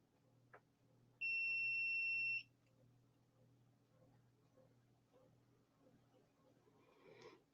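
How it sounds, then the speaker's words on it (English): A loud, steady electronic beep from a metal detector scanning jewelry lasts about a second, with quiet room noise before and after. "That beep kept saying I was hitting metal"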